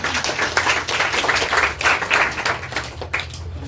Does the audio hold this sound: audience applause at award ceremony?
yes